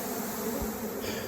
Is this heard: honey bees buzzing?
yes